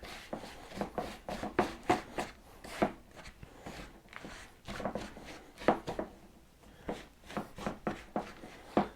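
Repeated soft chopping and scraping of a utensil through a thick almond peanut butter chocolate chunk energy bar mixture, quiet and irregular, with short pauses between bursts.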